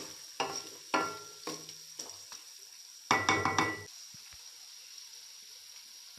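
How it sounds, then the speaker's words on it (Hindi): Scraping and clattering of a spoon stirring beef in a pot for karahi gosht, in irregular bursts with a quicker cluster midway, over a soft sizzle. "अभी इसको अच्छी तरीके से हम मिक्स कर लेंगे।"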